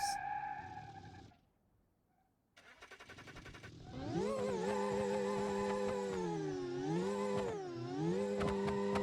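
Supercharged beater car engine, likely from a driving game, cranking briefly then catching and settling into a loud droning rev that rises and falls in pitch, alone without talk.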